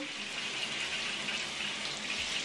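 Water leaking from a newly installed replacement shower head gives a steady, even hiss of spray and trickle, close and constant throughout with no talking.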